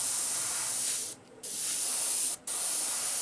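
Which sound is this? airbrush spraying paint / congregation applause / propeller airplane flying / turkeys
airbrush spraying paint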